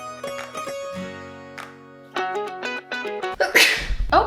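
A woman sneezes indoors in a home room, one sharp loud burst at the end after a stretch of musical background, standing out clearly above the other sounds.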